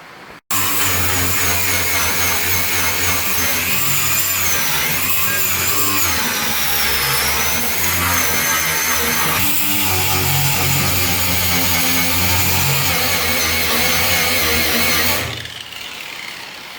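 Angle grinder working the rusty metal of a truck bed, a loud continuous high-pitched whine with shifting tone as the disc bites, starting abruptly and cutting off near the end.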